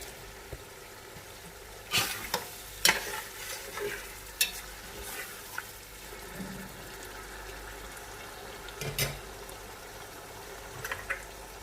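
Chopped tomatoes stirred into fried masala for shaljam gosht, giving a low sizzle with scattered scraping clicks and knocks of a spoon against the pot, close and moderately loud, with no talking.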